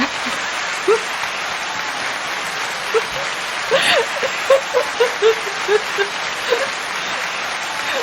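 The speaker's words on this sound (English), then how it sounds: "round of applause for our moms for trying" Canned applause from a soundboard sound effect plays as a continuous hiss-like wash of clapping, while people talk and react over it.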